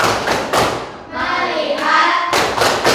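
A school class performs the 'tepuk fokus' clapping routine, loud rhythmic group claps in short bursts with a brief chanted vocal stretch in the middle.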